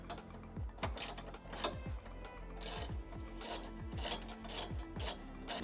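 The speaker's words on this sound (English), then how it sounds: "next we'll remove this bolt and this bolt that are holding on your bumper." Bolts being removed from the bumper of a Toyota 4Runner with a ratchet, giving repeated close ratcheting clicks and rasping mechanical turns over a steady low background hum.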